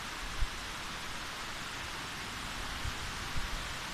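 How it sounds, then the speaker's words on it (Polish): Steady broadband rushing water noise of a jungle waterfall near La Fortuna, Costa Rica, continuous and even like falling water or rain, with a few faint low thumps. "właśnie tutaj mamy widok wodospadu."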